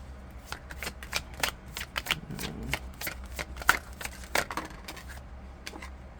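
Tarot cards shuffled by hand, with a quick run of crisp riffling flicks and soft taps repeating up close for several seconds, with no talking.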